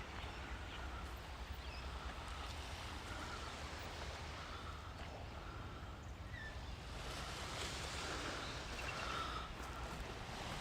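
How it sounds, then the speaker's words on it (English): Small waves wash against a shore at sunrise in a steady, soft, broadband hiss with gentle swells and some wind, heard from nearby with no talk. "the sound of water, waves lapping against the shore."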